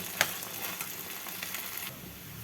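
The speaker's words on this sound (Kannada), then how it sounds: "ಈಗ ರುಬ್ಬಿಟ್ಕೊಂಡಿರೋ ಮಸಾಲ ಇದಕ್ಕೆ ಸೇರಿಸ್ಕೊಳ್ಳೋಣ ಹಾಗೆ ಇದನ್ನು ಚೆನ್ನಾಗಿ ಮಿಕ್ಸ್ ಮಾಡ್ಕೊಳ್ಳೋಣ" Ground masala being stirred into little millet and green peas in a hot pan, giving a short, close run of scraping and soft sizzling with one sharper knock near the start.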